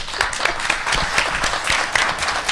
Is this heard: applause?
yes